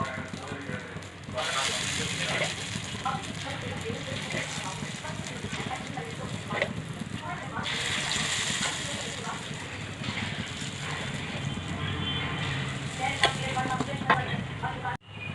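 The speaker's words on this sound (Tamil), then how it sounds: "இப்போ மாவு ஊற்றுவோம்." Sweet corn paniyaram batter is poured into a hot, ghee- or oil-greased paniyaram pan, making a continuous sizzling hiss with faint clatter, steady and fairly close, while a person talks over it.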